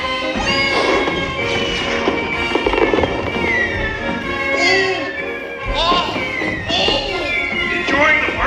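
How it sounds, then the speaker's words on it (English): Fireworks bursting and crackling at Hollywood Studios, with whistling rockets and repeated pops at moderate distance while a crowd and voices talk over the display. "The fireworks! Rockets away!"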